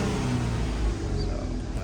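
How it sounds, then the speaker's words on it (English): A Ford F-150 pickup engine idles after being started, a steady low rumble with a throaty, uneven edge from a misfiring cylinder, close and continuous throughout. "I'm gonna turn on the car."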